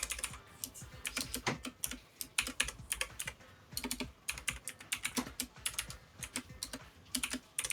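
Rapid, steady clatter of fingers typing on a computer keyboard, close and crisp, with uneven bursts of keystrokes and brief pauses, no voices over it.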